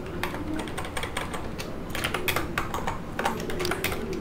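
Rapid, continuous typing on a computer keyboard while writing a Python script, dense clusters of close, crisp key clicks with brief pauses between bursts.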